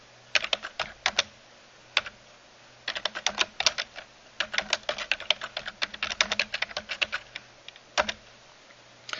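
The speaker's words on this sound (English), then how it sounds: "Go ahead and type out the description." Close keystrokes on a computer keyboard come in quick bursts of clicking, broken by short pauses, with no one speaking.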